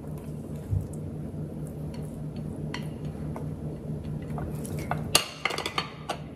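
Utensil scraping and tapping in a pan while mixing fried rice with ham, shrimp and veggies, faint steady stirring clicks under a low hum, with a few sharper clinks near the end.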